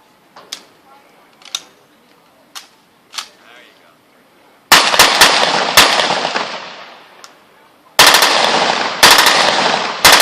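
Fully automatic weapon firing sustained bursts at an outdoor demonstration, loud and close, with a few sharp single cracks first, then two long rattling bursts separated by a brief pause.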